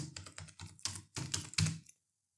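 Keys clatter on a computer keyboard in several quick, close bursts of rapid tapping with short pauses, ending in silence; no one speaks.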